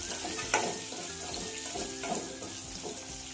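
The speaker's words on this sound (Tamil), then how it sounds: "இப்போ வந்து சுண்டவத்தலை போட்டுக்கிடுவோம் இதில் சுண்டவத்தை நல்லா வேகும் அது பொறிஞ்சு வரட்டும்" Dried turkey berries crackle and sizzle in hot oil in a pan for sundakkai vathal kuzhambu, a close, even frying hiss with a few sharp pops and light stirring scrapes.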